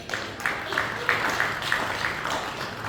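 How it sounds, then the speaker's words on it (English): An audience claps for a volunteer after a magic card trick, a brief burst of applause with rhythmic clapping, fairly close and moderately loud. "Round of applause for Roderick"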